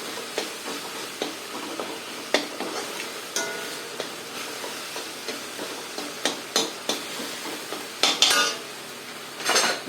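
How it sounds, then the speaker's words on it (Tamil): Radish greens and dal sautéing in a pan, with a spoon clattering and scraping against metal in irregular knocks over a soft background sizzle; no talking. "இதை சேர்த்துக்கிட்டு இதை நல்லா வதக்கணும் இப்படி வதக்கணும்"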